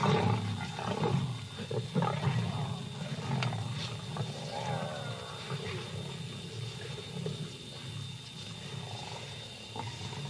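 A hungry lioness roars and growls in deep, rumbling bursts close by, sustained for about ten seconds against open outdoor ambience.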